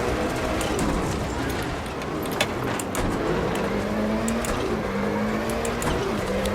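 A car engine in a racing video game climbs and shifts through revs, its tone rising in steady sweeps with brief clicks, heard continuously at moderate volume, with a voice talking faintly over it.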